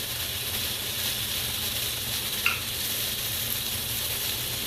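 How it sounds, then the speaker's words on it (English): Butter sizzles in a hot pan of cooking onions and peppers, a steady close frying hiss with one small sharp clink partway through and no talking. "I'm going to add about 2 tablespoons of butter."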